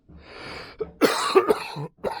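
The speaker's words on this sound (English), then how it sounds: "Sorry, I'm still getting over that cough." Person coughing close up, a short hoarse throat-clearing burst followed by a couple of harsher chesty coughs in quick succession, no speech.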